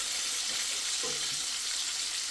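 Steady broadband sizzling of bacon frying in a pan, a continuous hiss with a faint brief tonal squeak partway through, no voices.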